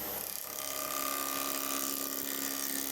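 Wood being turned on a lathe for a banana-wood bowl, with the gouge taking a cut at high spindle speed: a steady, loud, continuous whining hiss with a high tonal whine that runs alone for the whole stretch.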